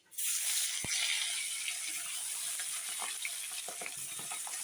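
Pabda fish frying in hot oil gives a steady, close hiss and crackle of sizzling throughout, with occasional small pops.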